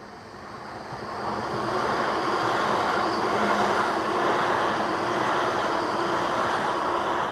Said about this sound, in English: We've got a class 323 going to Blackpool North.